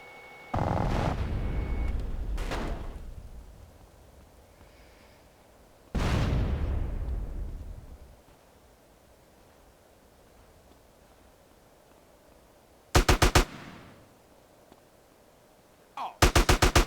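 Gunfire in GTA San Andreas: several loud, sharp game shots with long decaying booms near the start and around six seconds, then short rapid bursts near thirteen and sixteen seconds.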